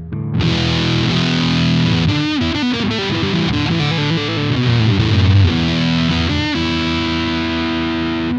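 Electric guitar played through a Caline M:Fuzz classic fuzz pedal, a thick distorted sustained tone with chords and a few bending note runs, loud and continuous from start to finish with no talking.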